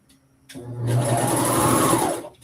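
A sewing machine stitches a seam on a knit top, starting after a brief pause, then running in one steady, fast, close whirring burst for about a second and a half before stopping.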